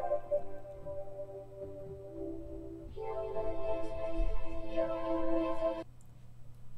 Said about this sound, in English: So that's the sound of the vocoder using the bandpass filters.